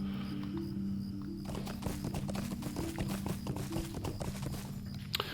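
Horse hooves clip-clopping as a mount is ridden in the video game Lord of the Rings Online, a quick, even trotting rhythm of soft hoof falls that is clear and close, with no talking.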